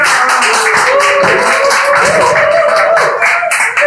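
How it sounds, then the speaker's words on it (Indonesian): An audience claps through a loud, dense stretch mixed with background voices and a sustained tone. "Kasih tepuk tangan dong bagi penontonnya"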